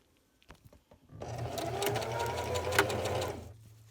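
Close up, a sewing machine stitches along the edge of a double-layer cloth face mask, starting after a few small clicks and running in one steady, buzzing burst for about two and a half seconds before stopping.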